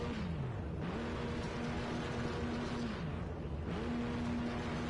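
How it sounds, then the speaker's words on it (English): Race car engines revving in the Le Mans pit lane during practice, a steady engine drone with pitch dropping and rising in repeated swells, moderately distant and without talk. "I hear a lot of revving in the pit lane."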